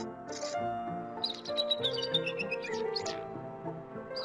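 A wound-up artificial mechanical nightingale sings bright, warbling chirps and trills over soft background music, with a steady melodic flow heard close by.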